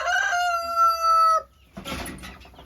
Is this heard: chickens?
yes